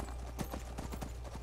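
Horse hooves clip-clop in a steady, rapid rhythm as a mount moves along in Skyrim, the repeated thuds fairly close and continuous under a low game background.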